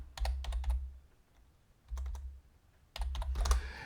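Typing on a computer keyboard comes in three close, quiet bursts of rapid clicking with short pauses between them.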